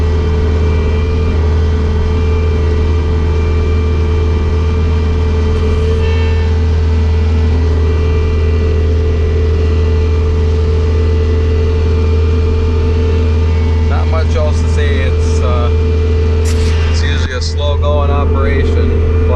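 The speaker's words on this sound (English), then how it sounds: "operation, plowing snow" A Bobcat skid steer plowing powdery snow over gravel runs with a loud, constant diesel drone and low rumble, with brief clanks and rattles near the end and a voice speaking over it.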